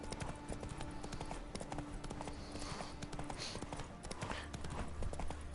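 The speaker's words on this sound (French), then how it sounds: "Non, le cheval s'appelle Ablette" A horse's hooves clip-clopping in the video game The Witcher 3, a quick steady rhythm of close, crisp hoofbeats over a low rumble, with light ambient sounds around them.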